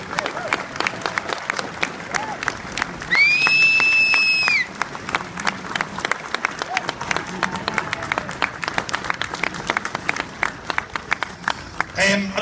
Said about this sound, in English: I'd like to have a huge round of applause for all our volunteer reenactors.